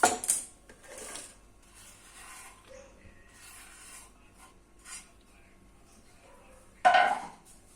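Salted chopped onion for crispy onion bhaji goes into a bowl and is mixed by hand: intermittent rubbing and scraping with light clinks against the bowl, close up, then a sharper louder scrape near the end.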